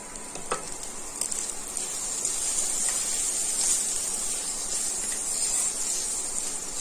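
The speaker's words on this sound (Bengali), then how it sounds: "এইবারে এর মধ্যে দিয়ে দিচ্ছি একটা বড় সাইজের টমেটো কুচি।" Chopped tomato hits fried onions in a hot pan for egg tadka and gives a steady hissing sizzle that swells and holds, with a few faint clinks at the start and no talking.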